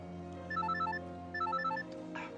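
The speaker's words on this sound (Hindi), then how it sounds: "किसका फोन है?" A phone rings with a melodic electronic ringtone, repeating its short tinkling pattern twice at moderate loudness over a steady low background hum.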